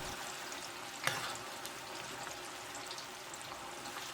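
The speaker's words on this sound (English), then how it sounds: "Add sliced green bananas in the heating oil." Sliced green bananas sizzle in hot oil in a saucepan, a soft continuous crackling hiss with one brief sharp pop near the start, fairly quiet and close.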